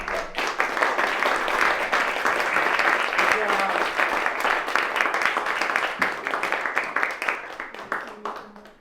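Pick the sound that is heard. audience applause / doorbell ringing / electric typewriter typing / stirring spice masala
audience applause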